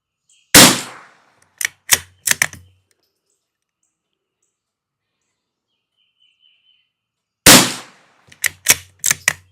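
Two sharp, loud gunshots about seven seconds apart from a Savage Mark II FV-SR rifle, each followed by a quick run of crisp clicks, with silence between.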